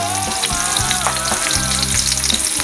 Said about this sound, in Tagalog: gigisa na tayo ng bawang